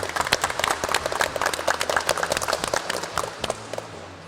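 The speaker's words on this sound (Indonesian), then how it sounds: "Tepuk tangan untuk semua." Students in an automotive class applaud together, a dense burst of overlapping claps that stays lively before tapering off at the end.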